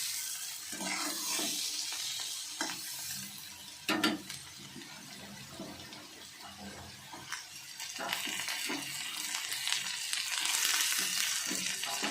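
Chowmein fries in a wok with a soft, continuous sizzle, broken by occasional scrapes and clatters of stirring, fairly quiet and close with no talk.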